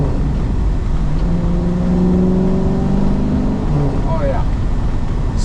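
A 1970 Dodge Challenger muscle car engine drones steadily while driving, a loud low rumble with a gentle rise in pitch under road and wind noise, heard from inside the car with no talking.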